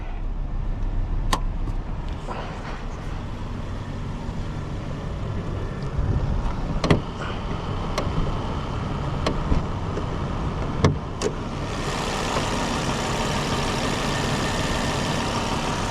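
A 2011 Volvo S40 T5 engine idles steadily with a low rumbling drone, with a few sharp clicks and a louder hiss joining toward the end.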